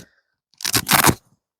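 Velcro on a beekeeping suit rips apart in one short, harsh tearing burst of about half a second, close and crisp, with no talk over it.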